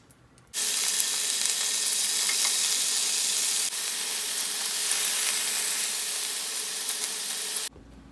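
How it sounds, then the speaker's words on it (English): Shrimp hit hot olive oil on a grill pan and burst into a loud, steady, hissing sizzle that holds for several seconds before cutting off abruptly. "I'm going to toss the shrimp in and give them a nice saute on each side"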